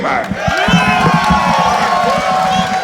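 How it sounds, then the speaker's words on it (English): Crowd at an FWE No Limits 2013 wrestling event cheering and applauding former champion Tommy Dreamer, a loud, dense roar of voices and clapping with shouts rising through it, sustained throughout. "Great sound of applause for Tommy"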